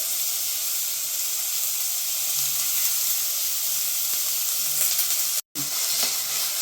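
Plenty of onions and green chillies sizzle steadily in oil for a mutton capsicum curry, with occasional stirring scrapes and a brief cut to silence near the end, and no speech.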